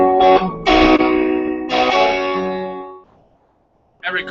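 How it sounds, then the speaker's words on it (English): An electric guitar played through a loud, heavily distorted amplifier rings out in gritty sustained chords that decay, then a short silence before another chord hits. "The amplifier is turned way up loud, and it's real, real dirty. There's a lot of distortion in the sound"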